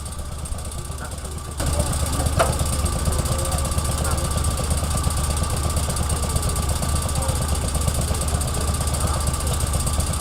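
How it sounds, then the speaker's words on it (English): A hydraulic log-splitting machine repositions a log at an agricultural show, its engine throbbing in a loud, steady, knocking drone that starts abruptly and runs on, with faint voices in the background. "The hydraulic rams reposition the log with a small helping hand."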